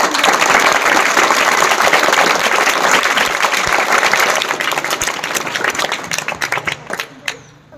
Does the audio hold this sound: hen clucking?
no